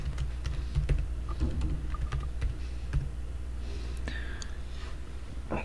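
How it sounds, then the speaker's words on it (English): Password being typed on a computer keyboard, a run of soft, close key clicks at an uneven pace over a low background hum, with faint breathing. "Now I'm gonna type in my password here."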